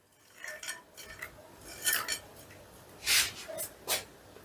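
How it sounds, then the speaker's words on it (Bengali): A spoon scrapes and clinks through a pot of pulao rice mixed with fried cashews and raisins, producing several short, bright scraping strokes of uneven loudness over quiet background, close up and without talk. "এবারে সমস্তটা আবারও আমি বেশ ভালো করে মিশিয়ে দিচ্ছি।"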